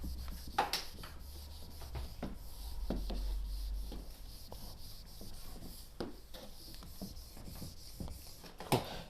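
A board being rubbed clean of writing in a classroom, with soft repeated swishing and scraping strokes at an uneven rhythm, fairly faint against a low background hum.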